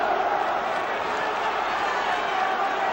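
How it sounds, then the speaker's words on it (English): A large crowd at a heavyweight boxing match between Frank Bruno and Tim Witherspoon roars in a loud, continuous, dense mass of voices chanting for Bruno, with no pauses. "Up comes the great Bruno chant."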